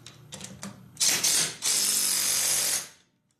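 Dewalt cordless 3/8 impact driver running lug nuts down: a few short whirring bursts, then loud, close, rapid hammering rattles for nearly two seconds before it stops, with no talking.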